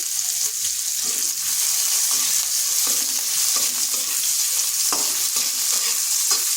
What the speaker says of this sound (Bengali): পেঁয়াজটাকে হালকা একটু নেড়ে নিলাম, ওটা খুব বেশি ভাজবো নি